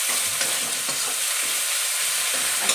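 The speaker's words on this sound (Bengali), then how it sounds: "একটু বেশি পরিমাণেই আদাটা দিয়ে ভালো করে নাড়াচাড়া করতে হবে" Ginger paste stirred and fried in a pan while cooking karela dal, a continuous sizzle broken by repeated scraping strokes of a spoon against the pan, close and fairly loud with no talking.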